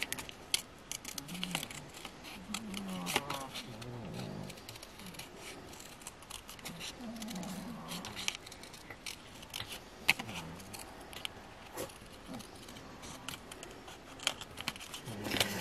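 Scissors snip through paper for a handmade Santa Claus envelope, a steady run of close, crisp cuts with short pauses between strokes and no talking.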